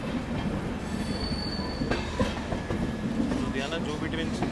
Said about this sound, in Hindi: लुधियाना जो भी ट्रेन स्किप करती है ऐसे स्लो स्किप लेते हैं।